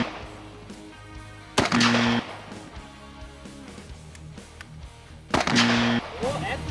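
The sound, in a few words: gunshots from a Smith & Wesson .50 caliber Magnum revolver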